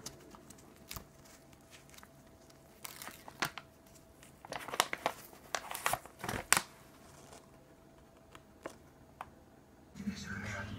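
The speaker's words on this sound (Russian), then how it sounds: "И запечатываю пакет." A Medtest kraft sterilization pouch is sealed with crinkling paper and scattered sharp crackles and taps, close and soft, bunched in the middle and followed by a quieter stretch.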